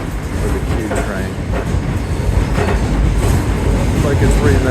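Rumbling ride aboard a New York City subway Q train, loud continuous low roar of wheels and car body with faint rhythmic rail clatter, building slightly toward the end.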